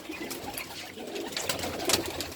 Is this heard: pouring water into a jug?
no